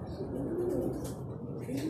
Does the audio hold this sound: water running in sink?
no